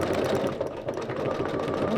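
A sewing machine stitches along a quilt seam with a fast, even mechanical whirring and rapid needle clatter, close and continuous throughout.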